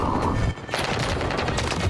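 Rapid, dense gunfire in Call of Duty: Modern Warfare 3 (2023), continuous bursts with heavy booms and crackling shots filling the short stretch.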